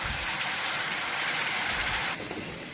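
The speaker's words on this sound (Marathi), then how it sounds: "त्यानंतर पाणी टाकायचे।" Water gushes steadily into a pan of spiced masala for chole, a continuous bright splashing pour that stops abruptly near the end, with no talking.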